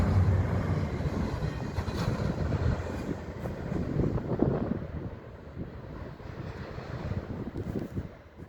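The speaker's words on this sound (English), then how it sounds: "Another train was now passing by as I got to a windowed door the same time the train did" A mixed manifest freight train with Norfolk Southern locomotives leading and Canadian Pacific units trailing rolls past in Elkhart, Indiana, heard from indoors by a windowed door as a steady low rumble and rattle of cars with some wind noise.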